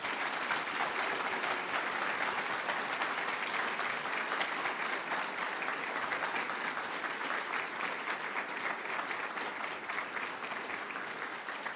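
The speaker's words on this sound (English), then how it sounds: "please, a nice round of applause for our dear guest" Sustained audience applause at a university lecture hall event, dense steady clapping from a large crowd lasting over ten seconds without a break.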